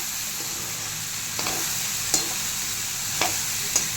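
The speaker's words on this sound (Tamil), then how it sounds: "நல்லா கிளறி விடுங்க காயை" Mixed vegetables for poriyal, including potato and elephant foot yam, fry steadily in a pan with a broad sizzle while a spatula scrapes and stirs in a few sharp clinks, close and without talk.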